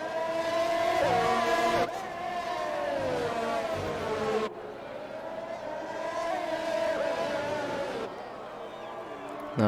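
Race cars whine through the Monaco street circuit in a racing video game, with high, buzzing engine tones rising and falling under steady commentary.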